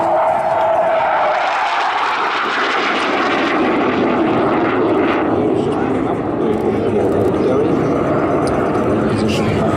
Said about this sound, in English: As it comes past, it'll be descending down to approximately 200 feet for this low pass.